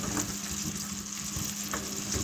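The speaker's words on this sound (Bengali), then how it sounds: "একটা কড়াই বসিয়ে কড়াইয়ে কিন্তু আমি বাটারগুলো সব দিয়ে দিয়েছি।" Butter melting in a wok over medium heat to make ghee: a steady close sizzle and bubbling fry with faint crackles throughout.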